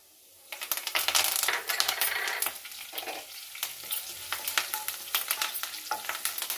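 Curry leaves and dried red chillies crackle and spit in hot oil for a fenugreek-and-spinach fry, sharp sizzling bursts broken by clicking stirs, loud at first and then settling into a lighter, steady crackle.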